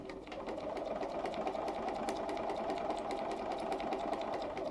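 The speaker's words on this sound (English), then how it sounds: "And we're going to sew on that line." A Bernina 135 sewing machine stitches along a marked line, giving a steady, continuous mechanical whir at close range that runs without a break and with no talking.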